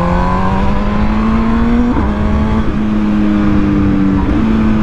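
An MV Agusta Brutale 1000 Serie Oro motorcycle engine, a 212-horsepower machine ridden gently past driveways, holds a steady loud drone with rising pitch that dips at two shifts, close and continuous.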